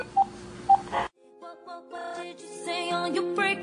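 Telephone tones in a video game: two short beeps, a cutoff, then a run of musical ringing tones that grows louder and fuller toward the end.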